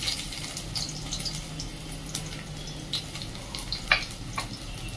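Garlic and onion with cumin are sautéed in a pan for a cucumber bhaji, giving a soft continuous sizzle with scattered crackles and small pops close by.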